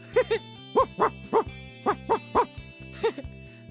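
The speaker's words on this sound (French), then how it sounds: "Ici, il y a, je dirais, un très gros chien" A very large dog barks in a series of about ten deep, evenly spaced woofs, close and clear, over a soft, steady background tone.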